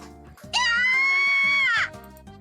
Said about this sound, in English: A scream from the hand-washing sink.